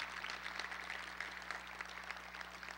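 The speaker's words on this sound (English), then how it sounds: "Just give him a round of applause." Audience applause for Bob Richards at a Hall of Fame induction ceremony, a faint, even patter of clapping from a distant crowd that holds steady throughout.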